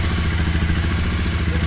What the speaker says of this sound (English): this is how it sounds in the idling. It's a stock bike, no modification, no performance air filter